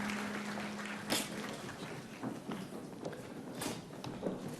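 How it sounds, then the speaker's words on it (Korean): Church congregation at a Sunday evening youth worship service clapping to welcome the worship team back for an encore song, a soft, steady patter of applause with a few sharper claps standing out nearby. "박수로 맞이하겠습니다."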